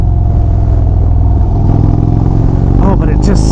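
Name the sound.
2025 Indian Springfield Dark Horse motorcycle exhaust rumble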